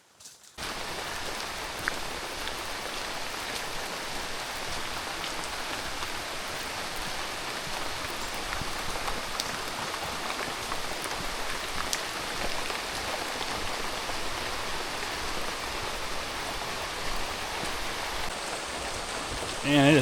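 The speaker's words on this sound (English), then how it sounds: "It's starting to rain harder." Heavy rain pours steadily onto a hiking trail in the Black Bear Wilderness Area near Sanford, Florida, a close, continuous hiss of drops that stays dense and even throughout, with no voices.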